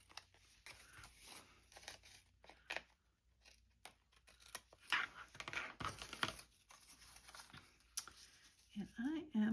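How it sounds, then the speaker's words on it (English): Scissors snip through paper in short crisp cuts with some rustling and crinkling, close by, while a person talks over the cutting during a papercraft project. "I'm going to cut this off."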